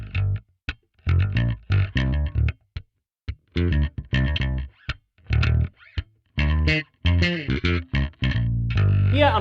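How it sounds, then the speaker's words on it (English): Fat, dry, punchy electric bass in a bass-rapping style, played alone as a run of short, percussive plucked notes and bursts with brief gaps, close and loud, no talking. "What I need is a fat, dry, punchy bass tone that builds the foundation for the band."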